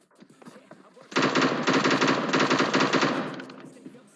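Sustained automatic fire from an M762 rifle in the mobile game PUBG Mobile, a loud rapid burst of shots lasting about three seconds after a short quiet lead-in, then tapering off.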